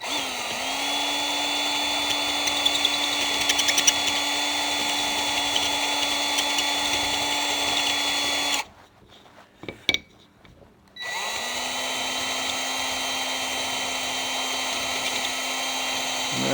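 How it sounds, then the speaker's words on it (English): A small electric hand drill whirs steadily at close range, cleaning a groove in a spinning wheel part, cuts out for a couple of seconds with a few knocks, then spins up again. "it's just a little electric hand drill"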